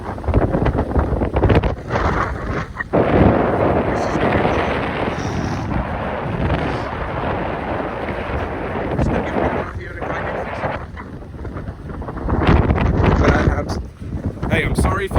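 Strong gusting wind roars across the microphone ahead of a fast-approaching rain storm, loud and continuous throughout with a few heavier bursts.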